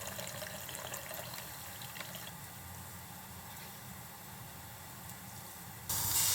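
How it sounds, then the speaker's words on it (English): Pork searing in a pot over medium-high heat gives a steady, close sizzle and hiss that holds at an even level, then swells louder near the end. "Sear the pork on all sides over medium-high heat to lock in the flavors."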